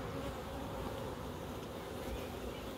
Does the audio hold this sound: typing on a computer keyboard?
no